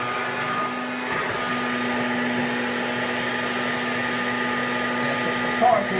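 A Hoover Dustette model 100 handheld vacuum cleaner runs steadily with a loud, close, continuous motor whine and airy hiss throughout, with a faint rattle of debris near the end.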